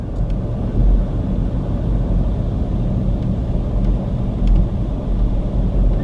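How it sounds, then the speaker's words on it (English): Traffic in a small Missouri town's downtown gives a steady low rumble of car engines and tyres, swelling as vehicles pass close by, with no talk. "There's some cars here downtown."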